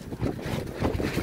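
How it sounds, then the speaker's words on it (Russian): Wind gusts buffet the microphone at a building site where a house facade is being clad, a rough, fluttering roar rising and falling over about a second with no speech. "Ветер дует."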